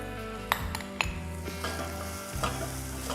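Chopped garlic sizzles in a cooking pot, a steady close fry punctuated by sharp clinks of a utensil against the pot and some stirring scrapes, no speech.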